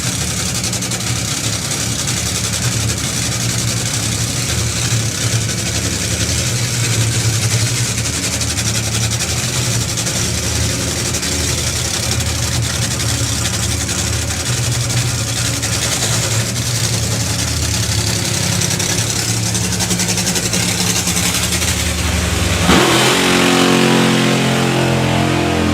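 A drag racing car at a European drag racing finals event fires up and does a burnout, its engine roaring loud and continuous with dense, heavy rumble, then shifting pitch sharply near the end.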